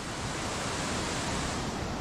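Water washes continuously across a rough, flooded coastal road in Indonesia, a steady close rush of surf-like noise with no pauses and no voices.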